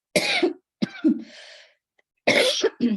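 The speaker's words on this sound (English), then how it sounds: "I still have this cough" Several close, harsh coughs in short bursts, with a raspy throat-clearing sound between them and brief silences.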